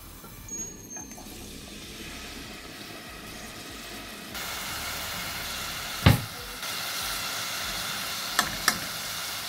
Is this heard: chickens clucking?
no